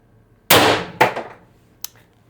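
A Mercury Rise IntruBuster G2 airsoft gun on 750 psi HPA fires a single sharp, loud shot close by, followed by a second clanging impact and a faint later tick, with no talking.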